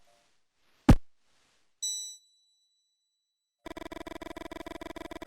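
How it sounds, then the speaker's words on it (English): Bell in the video game Mothmen 1966: a sharp clang, then a single ringing ding that decays, followed by a sustained buzzing electronic tone, all close and clear in near silence. "Suddenly, the bell rings and you feel an invisible force trying to drag you into the present."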